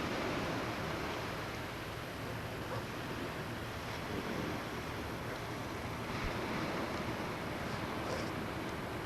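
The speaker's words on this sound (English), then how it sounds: "There's the ocean." Steady roar of ocean surf mixed with wind buffeting the microphone, continuous and fairly loud, with no voices.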